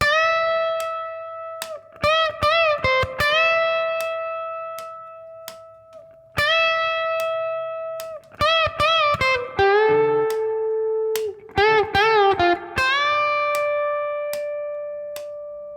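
Clean electric guitar lead notes from a song, several bending upward and sustaining, played in short phrases with pauses between them, clear and close.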